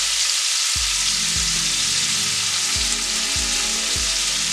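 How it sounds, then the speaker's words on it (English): Red onions and bacon sauté in a hot pan with a loud, steady sizzle and crackle, while a few soft thumps from stirring land at irregular intervals. "we're gonna sweat these down just like this"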